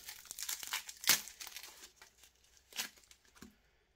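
Crinkling plastic packaging is pulled and torn open to unwrap airsoft gun barrels for a Tokyo Marui SLR B15 PDW build, with close, irregular rustling bursts and one sharp rip, then quieter crackles fading out.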